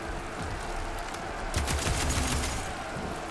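Rapid burst of auto-targeting cannon fire from a machine in Horizon Forbidden West, a dense crackling volley about a second and a half long rising over steady game ambience, fairly close.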